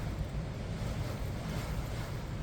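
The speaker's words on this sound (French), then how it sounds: "Toutes ces rafales." Steady, roaring wind gusts on Fuerteventura, Canary Islands, buffeting the microphone while hiking, a dense rumbling whoosh that swells slightly in gusts with no voices.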